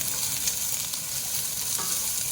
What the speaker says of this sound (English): my onion is sizzling nicely.